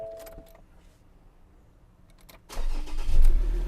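Faint clicks and rustling, then a Ford Ranger Wildtrak pickup's 3.2-litre diesel engine cranks and catches, settling into a loud, low rumbling idle close by.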